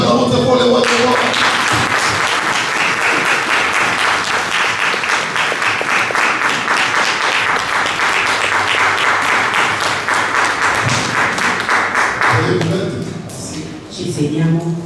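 A church congregation at a Sunday worship service applauds in sustained, dense clapping for about twelve seconds, which then fades out as voices return.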